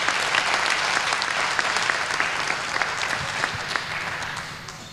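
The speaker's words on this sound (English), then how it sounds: "So I think she also deserves the same kind of applause just for being here." A conference audience at SHA2017 claps for a speaker, a sustained, even burst of applause with sharp individual claps standing out, lasting several seconds and tapering slightly at the end.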